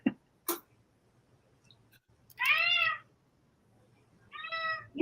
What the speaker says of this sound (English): Good Lord, my cat's never that vocal. He sounds irritated.